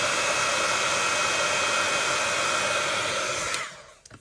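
Heat tool blowing hot air to dry distress ink, a loud, steady close-up whoosh that holds constant and then cuts off near the end, with no talking.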